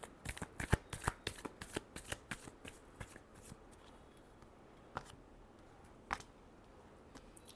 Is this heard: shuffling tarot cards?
yes